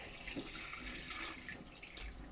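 Cold water running and splashing as homemade butter made from whipping cream is rinsed and pressed in a bowl, a soft, steady trickle close by with no talking.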